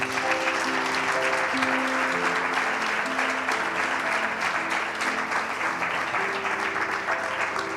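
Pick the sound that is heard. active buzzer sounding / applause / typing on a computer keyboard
applause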